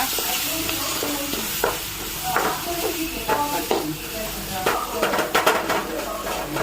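Spices sizzle in a frying pan while a utensil stirs, scraping and clinking against the metal in irregular strokes, a steady frying hiss underneath.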